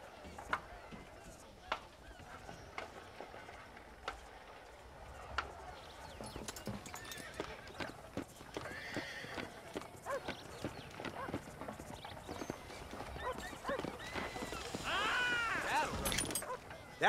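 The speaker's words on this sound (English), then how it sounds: "Do you see those horses to the left by the building across the street?" Horses hitched in a town street in the game Red Dead Redemption, with repeated hoof clip-clops, an occasional whinny and honking fowl amid busy ambience, under people talking.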